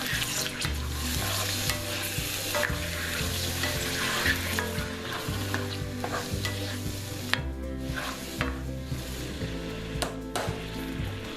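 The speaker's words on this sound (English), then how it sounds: "And then we'll just stir this in there." A spoon scrapes and stirs turkey meatballs through simmering marinara sauce in a pot, a steady close sizzle with light clinks, over background music and no speech.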